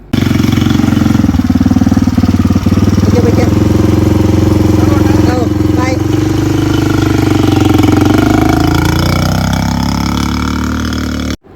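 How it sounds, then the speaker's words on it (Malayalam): ATV off-road bike engine running at night, a loud, continuous rumbling drone that shifts in pitch as it revs, close and dominant throughout with voices faintly underneath. "അപ്പോഴാണ് ഞങ്ങളവിടെ ATV റൈഡ് കണ്ടത്, ഓഫ് റോഡ് ബൈക്ക് റൈഡ്."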